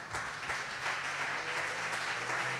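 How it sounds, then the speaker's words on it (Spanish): Congregation applauding in a church family gathering, a dense, sustained round of clapping from many people filling the room evenly throughout, without talk over it. "démosle un aplauso al Señor."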